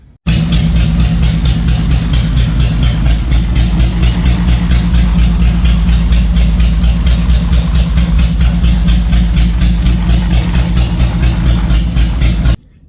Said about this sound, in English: I'll put a clip in of it idling, and it's still very loud because it's cut right at the cat